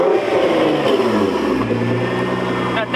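A Ford Mustang GT V8 with a stage 2 tune revs loudly up close, its deep engine note rising and settling in a continuous roar with no talk over it.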